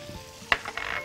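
Butter with a drop of oil hits a hot pan for cooking shrimp, producing a sharp tap followed by a soft, rising sizzle, close and brief.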